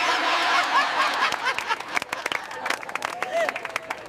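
A crowd claps in a public place, scattered hand claps rising and thinning over a few seconds, with chuckles and talk mixed in.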